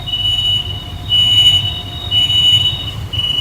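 An AC suburban local train at St. Thomas Mount station in Chennai gives off a steady low rumble with sustained high-pitched wheel squeals that come and go in several bursts, loud and close, with no talking.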